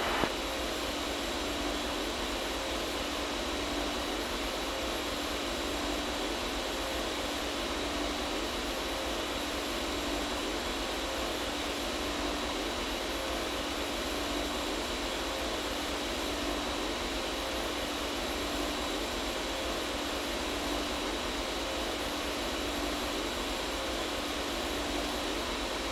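Jet aircraft landing in a virtual flight simulator at Atlanta airport, heard as a constant loud whooshing engine drone with a hiss-like texture, holding steady throughout without speech.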